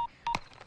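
Phone keypad tones beep in a short sequence: one thin tone, then two or three quick presses close together. Nothing else is heard.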